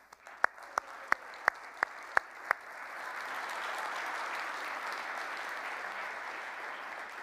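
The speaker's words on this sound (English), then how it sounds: "let's give them a huge round of applause" A few sharp, distinct claps ring out first, then an audience's applause swells into a soft, even wash that continues, heard from a distance at a township address event.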